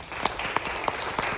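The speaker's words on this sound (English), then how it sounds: "I'm not telling these people to clap." A film screening audience applauding, a moderate burst of scattered claps with a few sharper individual hand claps standing out, heard from within the room.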